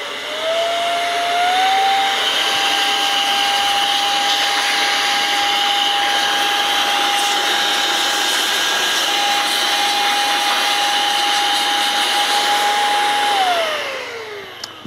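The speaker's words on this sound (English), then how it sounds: "This is an air blaster, by the way, that I can, if I want to, generate some air," An electric air blaster blows dust out of a crackling radio with a loud, steady whining rush that spins up at the start, holds for about twelve seconds, then winds down.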